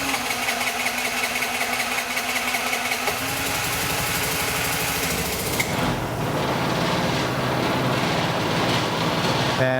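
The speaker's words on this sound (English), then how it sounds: "allow it, if it's a carbureted scooter, allow it to idle for a few minutes" A modern Vespa scooter's small engine sputters and catches partway through, then settles into a steady, buzzy idle with a rapid mechanical rattle.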